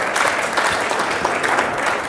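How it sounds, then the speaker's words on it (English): Steady applause from an audience fills the whole moment, dense clapping at an even level with no voices standing out. "So big round of applause for John for bringing the sunshine out"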